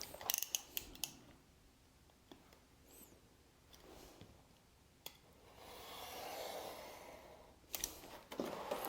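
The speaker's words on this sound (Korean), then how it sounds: "굳이 그럴 필요는 없는데 어떻게 되는지 보여드리려고 안쪽 것만 살짝 재단을 해 보겠습니다" Scissors snip through the inner piece of clutch bag material, giving a few quiet, close cuts and light handling rustles with pauses between them.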